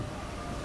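A train passing a village in Malaysia, heard as a low, continuous rolling rumble that holds steady through the brief moment, faint and distant, with no clear speech.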